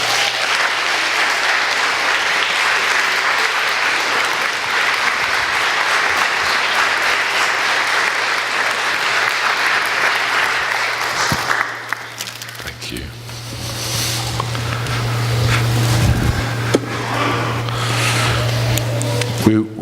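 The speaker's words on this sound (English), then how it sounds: "let's give her a huge round of applause" A church congregation applauds loudly and continuously for a long stretch, then the clapping thins out into scattered claps and room noise near the end.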